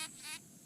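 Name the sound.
bee buzzing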